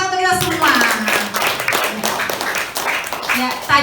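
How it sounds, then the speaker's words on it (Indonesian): A school gathering of teachers at SMP N 1 Rowosari breaks into audience applause, dense clapping from many hands filling the room, mixed with voices over the nearly four seconds. "beri aplaus tepuk tangan untuk kita semua"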